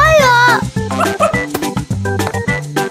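A cartoon character's voice imitates a dog, giving a quick run of loud, close, yappy barks and whiny yips over light background music.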